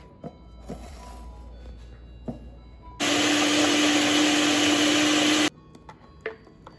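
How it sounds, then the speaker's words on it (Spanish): A kitchen blender purees a habanero and tamarind salsa, whirring loudly and steadily for about two and a half seconds between quieter handling clatter before and after. "Vamos a licuar y esta ya sería nuestra salsa."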